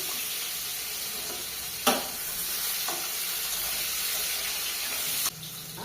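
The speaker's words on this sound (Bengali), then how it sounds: "আলুগুলো ভেজে নিচ্ছি" Potatoes coated in salt and turmeric frying in oil in a kitchen, a loud, even sizzle punctuated by a couple of sharp knocks before it abruptly drops off near the end.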